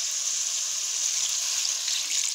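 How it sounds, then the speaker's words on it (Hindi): Water poured into a pan of tinda (round gourd) cooking in masala, a steady bright hiss and splash holding evenly throughout, close and fairly loud with no talk. "तो अब इसके अंदर पानी हम लोगों ने ऐड करना है।"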